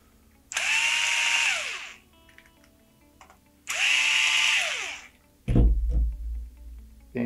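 A power tool whirs in two sustained bursts, each spinning up and winding down, while removing screws from an SMC valve manifold, followed by a clunk of handling and a thump near the end.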